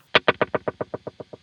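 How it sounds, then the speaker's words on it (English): A plucked guitar note through a digital reverb and ambience pedal set to a fast slapback delay, repeating about a dozen times in quick, evenly spaced echoes that steadily fade. "the time control engaged to then be a really, really quick slapback delay"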